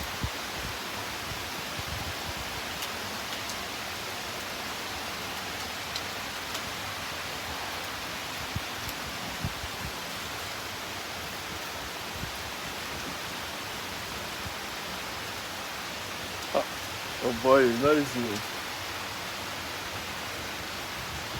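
Steady early morning rain falls continuously as a broad, even hiss, with a brief spoken voice late in the clip.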